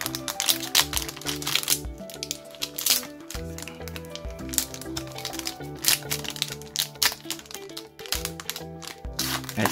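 A Yu-Gi-Oh Gold Pack 2016 card pack is opened up close, with crisp crinkling foil, sharp tearing and shuffling of cards in irregular bursts, and no voices over it.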